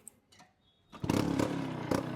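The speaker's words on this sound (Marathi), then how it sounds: "गाडी सुरू करूया." A Bajaj Chetak scooter with a worn silencer kicks over after a short quiet stretch of faint knocks, then catches and settles into a loud, steady engine running close by, with no one talking.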